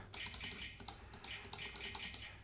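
Rapid, close clicks of a computer keyboard as a password is typed, keystrokes in quick irregular bursts with brief pauses, in a basement room.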